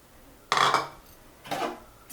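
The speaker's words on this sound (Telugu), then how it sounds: "దీంట్లో ఈ మినుములు వేసి వేయించుకోవాలి." Urad dal tipped into a kadai on the stove for frying, giving two short clattering rattles of dry lentils hitting the metal pan, fairly close and with a quiet gap between them.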